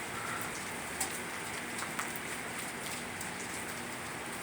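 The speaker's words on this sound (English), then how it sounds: "There's like hailstones on the balcony." Hailstones falling outside in a spring storm, a dense, steady patter like heavy rain with a couple of faint sharper hits, continuous and moderately distant.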